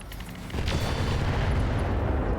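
A volley of ER LRM missiles launched at a Wolverine mech in the video game RogueTech. There is a brief burst followed by a sustained loud rumbling roar with no talk over it.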